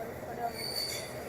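A train pulling into a station with its wheels squealing, a thin high metallic screech drawn out over a dull rolling rumble, heard from some distance and fairly faint.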